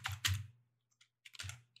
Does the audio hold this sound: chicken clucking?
no